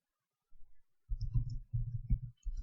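Someone typing program code on a keyboard: soft, muffled clusters of key taps in quick uneven bursts, close and fairly quiet, with short pauses between runs.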